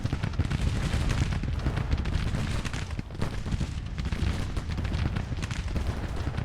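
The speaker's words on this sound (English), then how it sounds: "I like how these cannons are opening up on the flank over here." Cannon fire in the Civil War strategy game Grand Tactician booms in a rapid, overlapping barrage. Loud, rumbling blasts and crackling shots roll on continuously, with brief dips between volleys.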